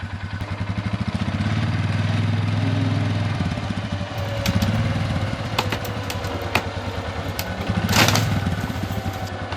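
A vehicle engine runs at steady mid revs while its wheels spin under winch tension during milkhouse roof work, rough throbbing drone with occasional clattering knocks and a louder surge near the end.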